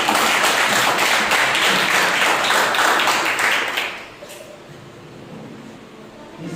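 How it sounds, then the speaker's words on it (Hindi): A church congregation at a Sunday service claps loudly for a birthday, dense sustained applause for about four seconds before it drops off into quieter room noise. "उनके लिए एक जोरदार तालियां हो जाए"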